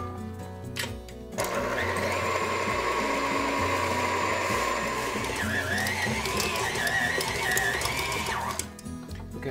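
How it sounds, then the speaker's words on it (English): A stand mixer fitted with a dough hook kneads bread dough for Day of the Dead bread, giving a steady, loud motorized whir and rhythmic churning that runs without a break after a brief quiet start. "I'm going to use the dough hook of my stand mixer to do the kneading of this recipe"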